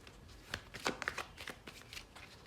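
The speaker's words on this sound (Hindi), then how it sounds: "फाइनल गाइडेंस के लिए हम दूसरे ओरेकल में से एक कार्ड ले लेते हैं" Oracle cards being shuffled in the hands, a run of soft, quick riffling flutters at close range with no voices over it.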